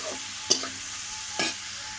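Yardlong beans fry in a pan with a little turmeric and salt, sizzling softly in the background while two quick stirring scrapes stand out, one sharper than the other, with no talking.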